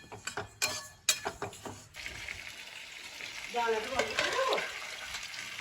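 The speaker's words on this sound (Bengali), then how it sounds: "ঢেলে দিলাম মুগের ডাল, ডালটাকে একটুখানি নাড়াচাড়া করে নিই" Moong dal is stirred in a pot for khichdi. A few sharp clinks and scrapes open, then a soft, even sizzle follows, and a brief voice speaks partway through.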